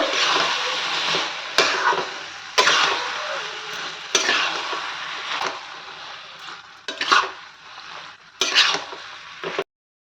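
Spinach and fish are stirred and fried in a pan, a loud close sizzle broken by repeated sharp scrapes and knocks of a spatula against the pan, each stroke punctuating the frying, with no talk.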